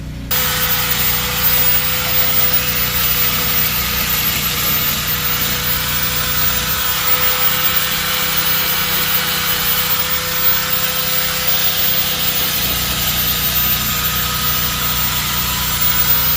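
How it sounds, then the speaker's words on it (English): A thin belt sander grinds steadily across the rear passenger-side corner of a Honda CRX body during a K-swap build, a loud continuous whirring abrasion that changes tone partway through as pressure shifts, with no talking. "You could see with the sander, the thin belt sander"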